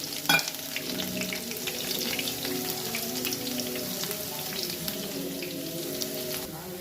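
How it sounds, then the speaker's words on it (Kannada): Chillies and crushed garlic fry in a pan with chana dal and urad dal for tomato pickle, giving a steady crackling sizzle throughout with a brief clatter near the start. "ಸ್ವಲ್ಪ ಫ್ರೈ ಆಗಲಿ. ಮೆಣಸಿನ್ಕಾಯಿ, ಜಜ್ಜಿರೋ ಬೆಳ್ಳುಳ್ಳಿ,"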